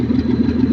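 A 1938 Dodge engine idling with drum brakes all around and no exhaust fitted, a steady low rumbling chug with a regular pulse, close and continuous.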